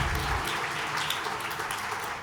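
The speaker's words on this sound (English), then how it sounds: "Please give me a huge round of applause." An audience at a talent development talk claps in steady, dense applause throughout, fairly distant and filling the room without a break.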